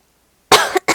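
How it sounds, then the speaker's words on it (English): A person coughs twice up close after a silent start, the first cough longer and harsher, the second short and sharp. "Sorry again for coughing at you."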